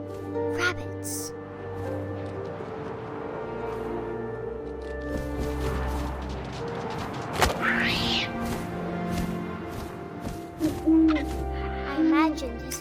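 Owl hoots in What Remains of Edith Finch, a few soft calls rising over a steady game ambience and music bed, with occasional thuds.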